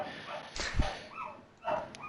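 A pet dog at home gives a few short, fairly faint barks and yips in quick succession, with no talking over them.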